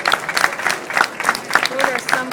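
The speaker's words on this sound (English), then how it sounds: "Would you please give her a round of applause for being here?" Audience applause at the Kern County Fair, a mid-level crowd clapping steadily with scattered individual claps and some voices mixed in.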